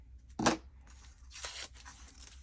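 Scissors cut through craft ribbon for a card: one crisp snip, then a softer second snip a moment later, close and alone in a quiet room.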